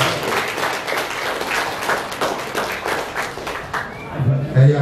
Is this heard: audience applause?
yes